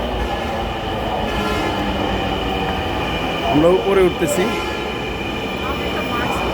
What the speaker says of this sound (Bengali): এই যে ট্রেন একটা আসছে ওই পাশে এটা উত্তরা যাবে